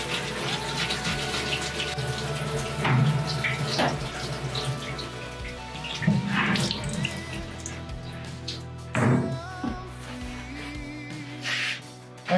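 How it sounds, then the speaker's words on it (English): Running water rinses carbon char from a Lichtenberg wood-burned workpiece during a scrub-down, a steady splashing flow with occasional louder spatters and scrubbing, fairly close and continuous. "Totally rinsing all the carbon out."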